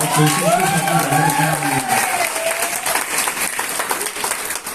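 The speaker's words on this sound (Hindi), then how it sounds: "एक बार जोरदार ताली हो जाओ यार" Audience at a motivational corporate talk breaks into loud, dense applause with a few cheers, sustained throughout while a voice calls out briefly over the clapping.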